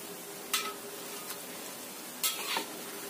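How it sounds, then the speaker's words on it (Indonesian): Krupuk crackers fry in hot oil, giving a steady faint sizzle with a few brief scraping stirs of a utensil against the pan; no one talks. "Goreng sampai benar-benar kuning, kuning kemasan atau kering."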